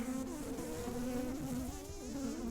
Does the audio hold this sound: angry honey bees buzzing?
yes